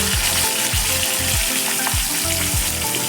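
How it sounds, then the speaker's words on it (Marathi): Onion, garlic, cumin and curry leaves fry in hot oil for a masoor bhaji, giving a steady close sizzle with soft rhythmic stirring thumps about every half second. "आता मिक्स करून घ्यायचं आहे आणि छान त्याला फ्राय होऊ द्यायचं आहे"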